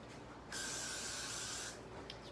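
One steady hiss of hairspray from an aerosol can sprayed onto teased hair, lasting over a second, close but quiet, in an otherwise silent room.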